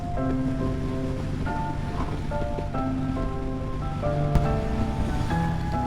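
Steady gusting headwind roars across the microphone during a rainstorm, loud and continuous, with a low rumbling layer underneath and a brief sharp knock near the end.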